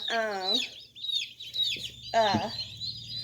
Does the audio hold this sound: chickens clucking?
yes